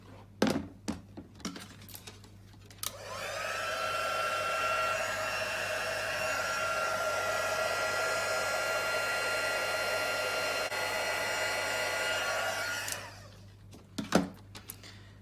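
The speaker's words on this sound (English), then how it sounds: "I'm going to bring the heat tool in and we're just going to heat that up." Heat tool blowing over a handmade Santa greeting card, a steady, loud whirring hiss that starts after a few handling knocks, holds for about ten seconds, then cuts off before more clatter.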